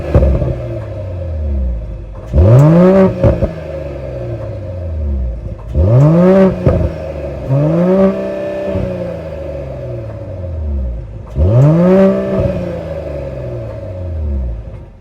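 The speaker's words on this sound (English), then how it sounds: "that was the sound of the higher output 3-liter straight 6 turbo sold by Mercedes-Benz" Revving of the 3-liter high-output inline-6 turbo engine in a 2024 Mercedes-Benz GLE 53 AMG Coupe with quad exhaust tips: four sharp throttle blips rise and fall over a steady idle rumble, heard up close.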